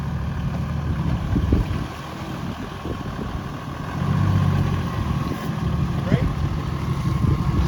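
A 4WD vehicle's engine drones steadily while driving slowly off-road in Tasmania, with rumbling low-end noise and bumps and wind buffeting across the whole stretch.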